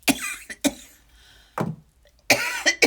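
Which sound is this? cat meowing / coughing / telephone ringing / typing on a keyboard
coughing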